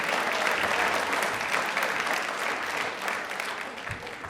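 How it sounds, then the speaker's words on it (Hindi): A studio audience at a televised quiz show breaks into sustained, even applause, a dense wash of clapping that holds steady and then slowly tapers, with a faint voice underneath. "आप तालियां एक बार जोरदार हो जाए इसके लिए प्लीज"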